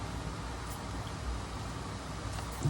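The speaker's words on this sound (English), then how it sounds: "sorry about the fan, folks." An electric fan runs in the background, a steady, even whoosh of air with no change in pitch or loudness.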